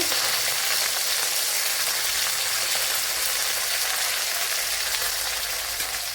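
Ginger, garlic and curry leaves fry in hot oil for a Kerala egg thoran, giving an even, continuous sizzle and crackle at moderate volume with no voices.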